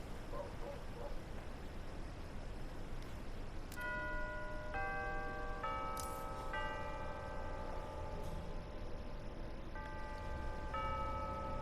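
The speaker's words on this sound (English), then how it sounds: "That is a long doorbell." A long doorbell in the video game Hitman rings out as a series of clear chime tones, several notes in sequence over a steady background hiss, moderately loud, with no one speaking.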